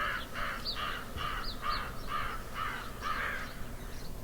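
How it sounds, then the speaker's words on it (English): Crows cawing along a road to Taos in the open countryside, a series of about eight harsh caws in a loose rhythm, moderately distant over a quiet background. "A lot of birds here."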